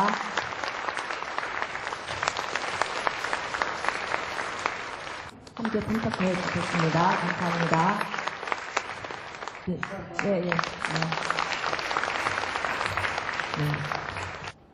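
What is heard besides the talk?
audience applause of welcome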